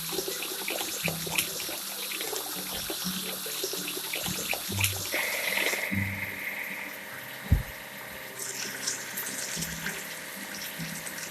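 Running water sprays and splashes over a cartoon track laying machine, a steady hiss and rush of liquid with a faint engine hum and a few clunks underneath.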